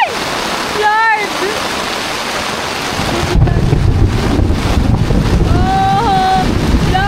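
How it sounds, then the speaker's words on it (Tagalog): Heavy rain and gusty wind buffeting a car while camping at Quituinan Ranch near Mayon, a loud continuous roar with wind rumble on the microphone, while people shout and talk over it. "Lakas ng ulan guys."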